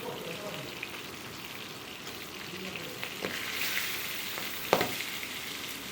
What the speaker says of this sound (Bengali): মাছটা ভীষণ পরিমাণে তেল ছিটকায়, তাই এটা কিন্তু আমি একটু ঢেকে ঢেকেই ভেজে নেব।